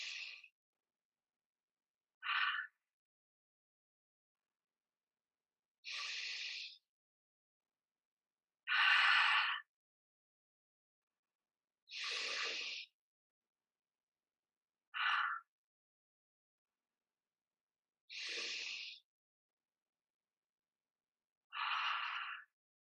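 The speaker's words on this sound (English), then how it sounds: "let's take 5 deep breaths together." Eight deep breaths taken slowly during a guided relaxation, each a soft airy inhale or exhale lasting about a second, separated by pauses of silence, close and clear with no talking.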